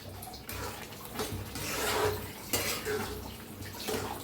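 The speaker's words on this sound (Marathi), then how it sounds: "असं हलवत हलवत सगळं पाणी आटवून घ्यायचं आहे गुळाचं" Spoon scraping and stirring jaggery syrup in a pan as the water boils off, with repeated close metallic scrapes and sloshing in an uneven rhythm, partly under a voice.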